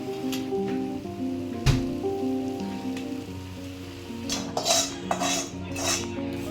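A spice mixture with coriander powder heated and stirred in a pan for Diwali chivda, metal utensil clinks and scrapes against the pan, a sharp knock near the middle and quicker scraping toward the end.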